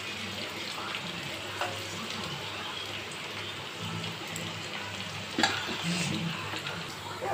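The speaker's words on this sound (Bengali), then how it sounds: "এটা ভালো করে ভেজে নিতে হবে মিডিয়াম আঁচে রেখেই ভাজবো" Okra frying in a pan over medium heat gives a continuous soft crackling sizzle, steady and moderately close, with one brief louder clatter near the end.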